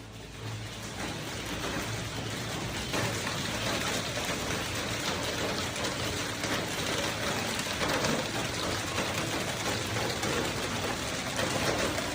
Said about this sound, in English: it is not just rain, but also an upgrade package from the sky as hail pours down with the storm startling everyone